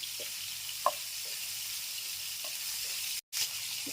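Steady, soft sizzling of tomatoes frying in a pan until soft, with a few faint clinks and stirring sounds scattered throughout.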